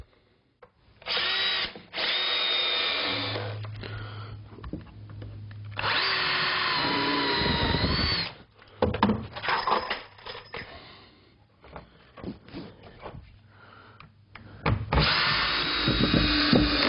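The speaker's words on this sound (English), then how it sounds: "So I'll just screw these in place." A Bosch power drill drives screws into wood while a chicken coop is being built, with several loud close bursts of whining motor, short trigger pulses and clattering handling between runs, no talk.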